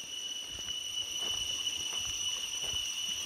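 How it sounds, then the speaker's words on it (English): Cicadas in a jungle beside a river drone steadily in a loud, high, unbroken buzz like an alarm, with faint background noise beneath. "So it's not an alarm, it's a cicadas here. They're so loud, it sounds like alarm."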